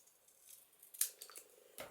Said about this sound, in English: So I'm going to just cut a piece of this off